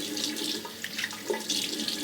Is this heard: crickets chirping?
no